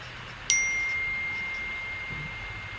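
A phone notification chime rings once, bright and clear, and its tone fades slowly against a quiet room.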